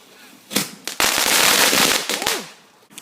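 Fireworks go off in a close series of loud bangs and crackling bursts, one sharp report followed by a longer dense crackle, then a few scattered pops; a short sound of voices may be mixed in.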